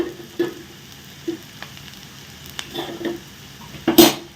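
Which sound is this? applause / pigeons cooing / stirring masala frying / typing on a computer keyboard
stirring masala frying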